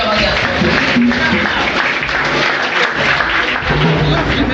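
A church congregation at a pastor's anniversary celebration applauds, a dense, loud, steady wash of clapping and crowd noise filling the whole stretch, with voices mixed in.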